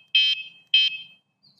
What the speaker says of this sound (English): super loud bike horn.